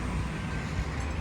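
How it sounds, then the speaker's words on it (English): Roadside traffic rumbles past in a brief, continuous low wash of cars and trucks, blended with buffeting wind noise and no voices. "I apologize for the wind and the cars and trucks and stuff that you hear in the background"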